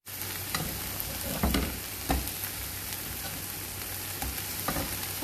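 Defrosted spinach sautés in a pan as its liquid cooks off, giving a steady close sizzle with a few scattered scrapes and stirring clicks over it.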